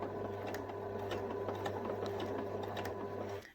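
Home sewing machine stitching fabric for a stuffed bunny toy, a steady close whirring hum with rapid needle ticks, running evenly before stopping abruptly at the end.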